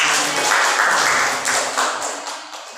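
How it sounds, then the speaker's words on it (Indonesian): Group applause during a teachers' training session, a steady patter of many hands clapping at moderate loudness that tapers off toward the end, with no speech over it. "tepuk tangan untuk kita semua"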